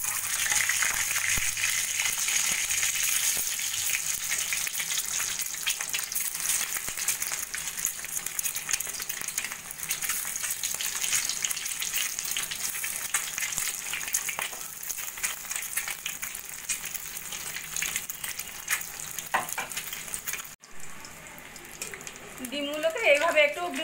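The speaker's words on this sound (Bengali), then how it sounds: "এবার আমি ডিমগুলোকে একটু ভেজে নেব।" Halved boiled eggs fry in hot oil in a wok, making a continuous close sizzle that fades near the end into a short clatter and a few small handling sounds, with no voice heard.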